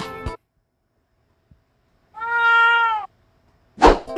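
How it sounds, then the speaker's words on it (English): A cartoon cat in an animated SMG4 show gives a single clear, drawn-out meow, framed by brief unrelated sounds before and after it. "Here's your cat, Loaf."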